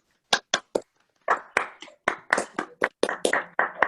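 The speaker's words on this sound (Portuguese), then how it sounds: "Vamos dar uma salva de palmas aí" A small group gives a round of applause for a guitar teacher, starting as a few separate sharp claps and building into a short, close, uneven burst of clapping with no voices.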